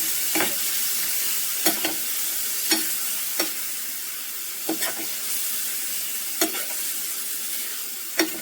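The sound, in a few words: stirring and frying boiled beef liver in pan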